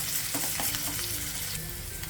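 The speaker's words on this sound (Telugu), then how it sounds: "జస్ట్ ఈ ఉల్లిపాయ ముక్కల్ని, పచ్చిమిర్చి ముక్కల్ని 1 నిమిషం ఫ్రై చేసుకోవాలి" Chopped onion, green chilies and curry leaves fry in a pan with a steady, close crackling sizzle and a few soft stirring scrapes, no voices.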